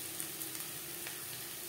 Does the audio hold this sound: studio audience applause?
no